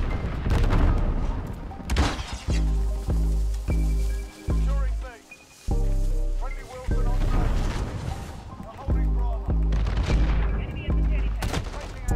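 Gunfire in Call of Duty Modern Warfare, loud rhythmic bursts and heavy booms repeating in clusters, with a voice talking over the shooting.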